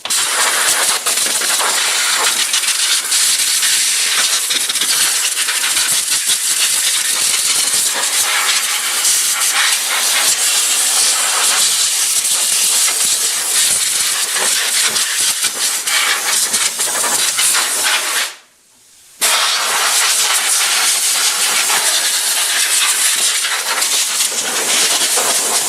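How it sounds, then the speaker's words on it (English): Compressed air blower hissing as it blows dust out of a plasma cutter, a loud steady rushing blast that runs nearly the whole time with one brief pause near the end. "we're just going to grab the blower before my air compressor loses all the air because it's developed a leak"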